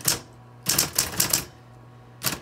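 Keys strike on a vintage Coronet Super 12 typewriter, sharp clacks close up in a loose rhythm: one hit, a quick run of four, a pause, then a final strike over a faint steady hum.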